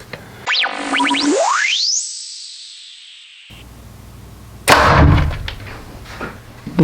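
An Afflictor K2 Mini broadhead arrow strikes a foam target with a single loud, thudding impact, preceded by a rising electronic whoosh and a stretch of near silence.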